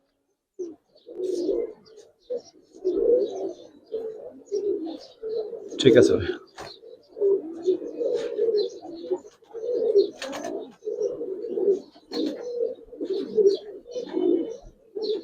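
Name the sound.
Giribaz pigeons cooing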